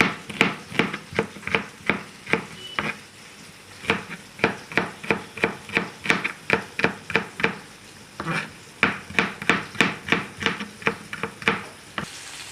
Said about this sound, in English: Chopping the onions long but finely.